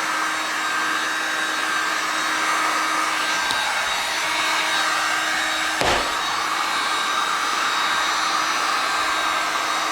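Steady hot-air blower whooshing continuously onto a polythene plastic template laid over a welded teak panel, with a brief sharper tick midway; no voices.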